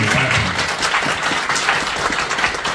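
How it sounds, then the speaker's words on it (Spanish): A congregation at an outdoor Mass honoring Isidoro Tirado claps for Padre Diego, a loud, dense burst of applause filling the whole moment. "Aplaudan al Padre Diego"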